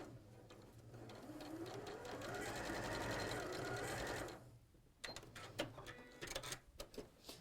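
A sewing machine stitches a seam in a steady, rising whirr for about four seconds, then stops, followed by quieter clicks and taps as the fabric is handled.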